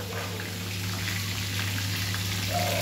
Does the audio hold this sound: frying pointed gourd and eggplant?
yes